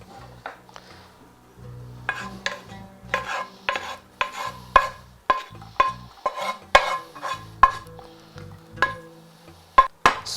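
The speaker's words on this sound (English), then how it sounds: "We're gonna put the onion in the tajin." Caramelized onion spread into a tajin pot, with a spoon scraping and tapping the pot in repeated sharp clacks over a faint sizzle, close and fairly loud.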